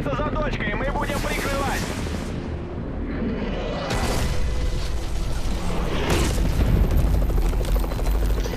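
Heavy booming blasts roll through a dense, noisy Modern Warfare 3 soundscape as Berlin is destroyed, with bursts of rumble and crackle repeating at a steady, loud level.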